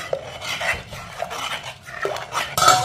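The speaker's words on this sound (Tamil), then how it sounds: "இதை உடனே நம்ம கிண்டிடணும் இல்லாட்டா கீழே வந்து அடி பிடிச்சிரும்" Mappillai samba rice kanji stirred in a pot makes irregular scraping and sloshing strokes with light utensil clinks against the metal, close up and without speech.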